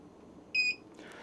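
A VEVOR tumbler heat press timer gives a single short electronic beep, clear and close against a quiet hum.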